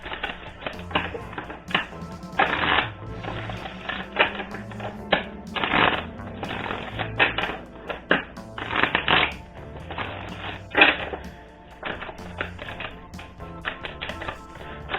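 Oracle cards being shuffled by hand, a steady run of papery riffles, slaps and taps in dense bursts over about fifteen seconds, close and fairly loud with no talking.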